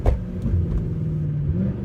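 Deep, steady engine rumble from a Mercedes C63 AMG driving through a tunnel after a downshift, loud and continuous with a slight rise in pitch near the end.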